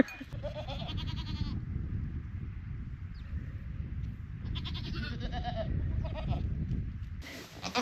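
Goats bleat in a farm pen in frigid winter weather, with two long wavering calls close by and another sharp bleat at the end over a low background rumble.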